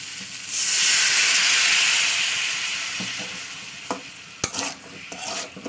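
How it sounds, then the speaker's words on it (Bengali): Potatoes stir-fried in spices with a little water added, a loud hissing burst of steam and sizzle that fades, followed by close clattering stirs and scrapes of a spatula against the pan. "চলুন অল্প অল্প জল দিয়ে দিয়ে আলুটাকে কষে নে"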